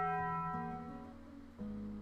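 A single deep bell tolls like a death knell, its long humming tone decaying slowly before a second strike lands near the end, faint and unaccompanied by talk.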